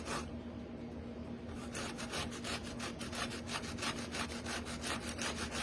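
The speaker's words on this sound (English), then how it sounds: "Just grate it on your grater." Zucchini is rubbed against a hand grater in a quick run of rhythmic rasping strokes, close and fairly quiet, with no talking.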